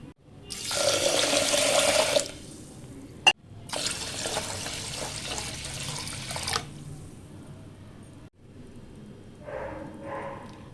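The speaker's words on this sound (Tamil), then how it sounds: "நம்ம இதை தண்ணி விட்டு அடுப்பில் வச்சிடலாம்." Water poured over washed raw rice for sweet pongal, two long splashing pours separated by a brief knock, followed by a few faint trickles.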